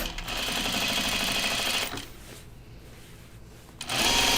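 A sewing machine stitches binding on overalls in a close, rapid mechanical whir, running for about two seconds, easing to a quieter slow pace, then surging back to full speed.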